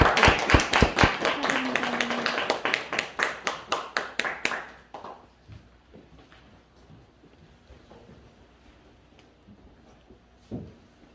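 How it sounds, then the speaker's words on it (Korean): Church congregation applauding together, a dense burst of rhythmic hand claps that thins into scattered, fading claps, followed by near silence with a few faint knocks and one last soft clap. "경례. 박수."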